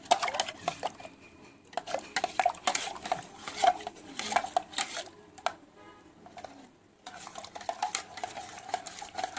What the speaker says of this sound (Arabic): بقلبها كويس زي ما انتم شايفين كده